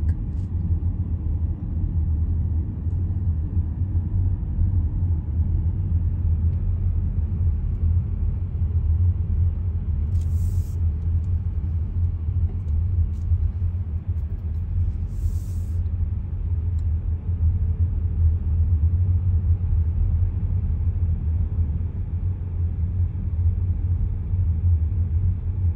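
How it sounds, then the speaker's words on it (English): Car interior driving into downtown Woodstock, a steady low engine and road rumble throughout with no voices and a couple of brief faint high ticks. "Driving into downtown Woodstock."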